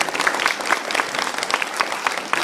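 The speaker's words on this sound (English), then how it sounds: "Could you please give them a round of applause?" An audience at an academic excellence awards ceremony gives a round of applause for faculty, a lively crackle of many hands clapping at close-to-moderate distance, steady throughout with irregular individual claps standing out.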